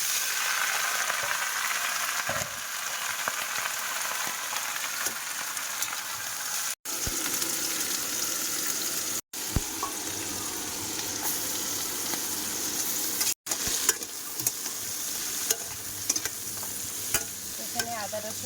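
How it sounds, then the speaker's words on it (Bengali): River crabs frying in ghee with ginger and garlic paste in a pan: a continuous loud crackling sizzle up close, broken by a few brief clatters and stirring scrapes. "কাঁকড়াগুলো ভাজবো আর কি"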